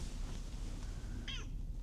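A cat gives one short, faint meow near the end, heard alone against quiet room background.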